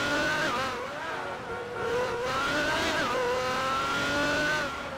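Loud Ferrari engine in the GTA 5 video game, a steady close whine with pitch rising and falling as the car accelerates and shifts, heard alone without speech.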